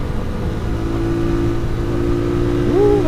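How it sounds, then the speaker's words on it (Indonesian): A small carbureted, air-cooled Suzuki Satria FU (2014) motorcycle engine runs steadily and revs up smoothly near the end, staying smooth at high RPM, with a low continuous drone close by. "RPM tinggi pun halus getaran mesinnya ya, nggak kasar loh"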